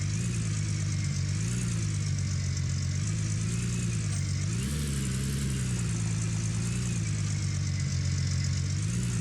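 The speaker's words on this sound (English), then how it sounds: "Also, the engine's loud." A vehicle engine in a video game runs steadily with a loud, continuous harmonic drone, its pitch rising briefly midway as if revving slightly before settling back, with no speech.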